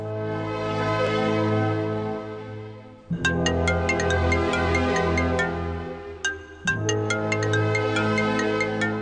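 A phone ringtone plays a bright, bell-like melody in repeating phrases, loud and close, with no talk over it, in a Marathi TV serial scene.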